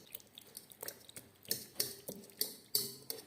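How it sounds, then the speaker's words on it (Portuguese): A fork mashes cooked pumpkin in a bowl for pumpkin bread, giving a series of soft, wet clicks and taps against the bowl in an irregular rhythm, close and fairly quiet. "E com um garfo você vai começar a amassar isso que está aqui."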